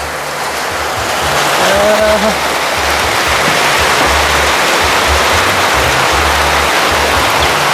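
Steady rain falls during a storm with a constant dense hiss throughout, and a brief tonal sound rises briefly near the start.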